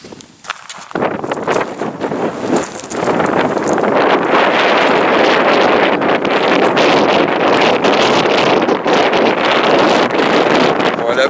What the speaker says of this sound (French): Viens là, Louis, il y a trop de vent là-haut